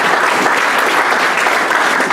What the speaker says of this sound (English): so we'll give him a clap as well